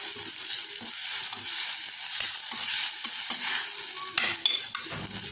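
Tomato paste with ginger garlic sautés in a pan for cauliflower pepper fry, a continuous bright sizzle broken by scraping stirs, close and fairly loud with no talk.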